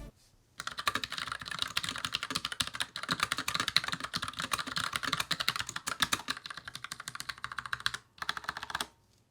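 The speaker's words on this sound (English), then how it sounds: "here's a quick sound test of the Tesoro Agile Switch" Rapid, steady clicking of Tesoro Agile low-profile mechanical switches on a Tesoro Gram Spectrum keyboard with ABS keycaps, close and crisp, with a brief pause near the end and no voices.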